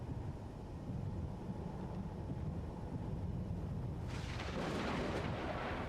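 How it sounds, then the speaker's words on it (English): Thunder in a space video game gives a deep, continuous rumble that swells into a louder, rougher roar near the end, with no speech over it. "Seriously, why am I hearing thunder?"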